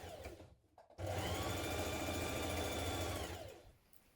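A sewing machine stitches a sweatshirt band in one continuous run of about two and a half seconds. It is fairly quiet, with a short stop-start before the run, and no talking.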